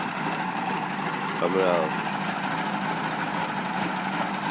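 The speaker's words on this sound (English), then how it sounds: "Seems to me that it idles a little bit rough, but from what I understand, these engines do idle rough." A 1990 Mercury 100hp 2+2 outboard engine idling rough, a steady low drone running throughout while someone speaks briefly over it.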